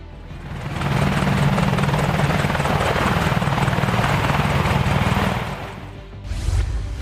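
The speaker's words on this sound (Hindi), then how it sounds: "advance combat helicopter" An Apache attack helicopter passes at close range with a loud, throbbing rotor chop that swells, holds steady and then fades away, followed by a short burst of noise at the end.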